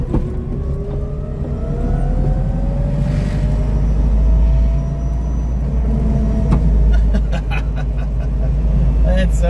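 A 1963 Volkswagen Beetle converted to electric drive cruises along with a steady low road rumble and rising whine, regenerative braking easing it down, while people talk over it.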